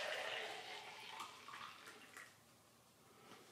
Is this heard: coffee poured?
yes